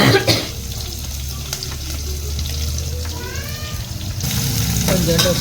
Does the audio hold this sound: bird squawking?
no